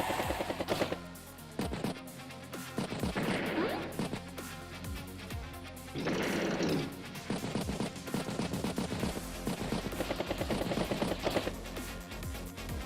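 Anti-air unit gunfire in Advance Wars by Web: repeated loud bursts of rapid machine-gun fire with crunching impacts, arriving in clusters over a continuous busy game soundscape.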